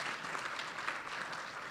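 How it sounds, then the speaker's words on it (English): Faint, distant audience applause at a tech and innovation pitch competition: an even, continuous patter of many hands clapping for the whole brief stretch, with no voices over it. "Let's give a big round of applause to the Tech and Innovation category."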